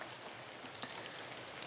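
Rain patters steadily on surfaces around a cabin, a soft continuous wash of drops with occasional brighter ticks, fairly close and with no voices.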